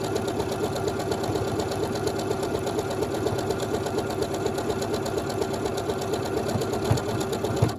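A sewing machine stitches the right-hand beading of an automatic one-step buttonhole, a steady, rapid mechanical whirr with a fast rhythmic needle chatter, close and continuous.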